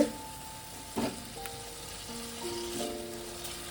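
Spice paste with yogurt fries gently in a pan on low heat for a mushroom and potato curry, a soft, quiet sizzle with a couple of faint stirring knocks.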